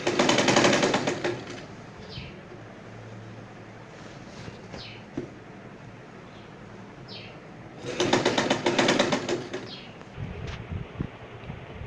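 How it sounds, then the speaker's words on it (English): A sewing machine stitching a kaftan sleeve into the armhole, heard as two loud bursts of rapid mechanical chatter about two seconds apart, with a quieter stretch of faint background noise and small knocks between them. "So I'm sewing the sleeve"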